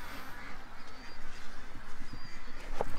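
Ducks gathering in the morning, quacking repeatedly in an uneven, overlapping chorus, fairly close, with a louder call toward the end.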